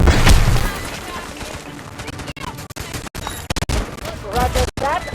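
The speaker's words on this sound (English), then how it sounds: "Artillery barrage incoming." An artillery barrage in the mobile shooter Delta Force Mobile, with heavy booms and rattling gunfire in a dense battlefield mix, and radio-style voices speaking over it.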